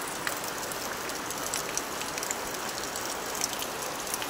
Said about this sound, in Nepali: हाम्रोतिर चाहिँ पानी पर्यो हे साथीहरू, अचानक अचानक